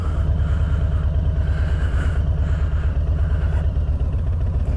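A motorcycle moving off as the clutch is slowly let out with no throttle applied, giving a steady, loud, low engine chug with even rhythmic pulses throughout and no talk.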